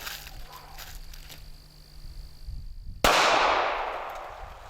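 A single sharp report from a Ruger LCP II compact pistol cracks loudly close by at about three seconds, its bright burst decaying over the following second after a stretch of low background noise.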